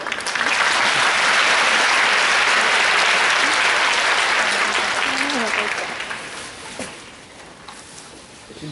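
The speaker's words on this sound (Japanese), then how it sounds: "拍手。" Audience applause at an exhibition match, loud and dense, sustained for about five seconds before thinning out and tapering into scattered claps near the end.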